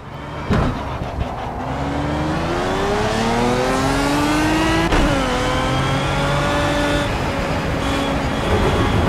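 A Pagani Cinque Roadster's engine in the Project CARS racing game revs loud and continuous, its pitch climbing and falling through gear changes with a sharp shift near the middle, sustained throughout with no talking.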